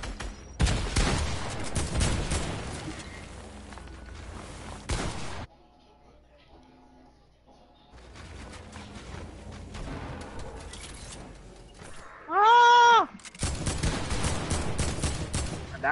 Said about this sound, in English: He shot his shotgun.